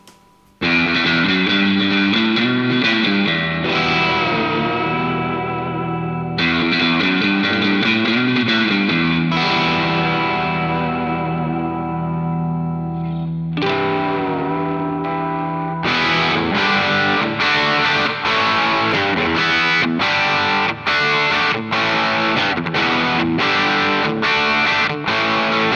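A Stratocaster fitted with non-single-coil pickups plays through a Bogner Goldfinger 45 amp into a G12H30 speaker with reverb, giving sustained distorted chords and notes that ring out and decay between phrases, loud and close.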